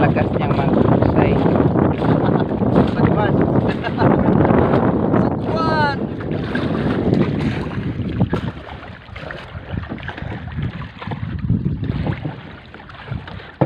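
A boat is paddled toward a pier, with splashing water and wind buffeting the microphone in a continuous loud wash throughout, while people talk over it.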